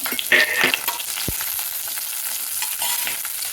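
Green and dried chillies fry in hot oil for a tempering for a village-style greens soup, giving a steady bright sizzle with a few scraping stirs and one short low knock near the start.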